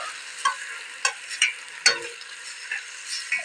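Food sizzles steadily in a large five-kilo pot while a spoon knocks and stirs at irregular intervals, close and moderately loud.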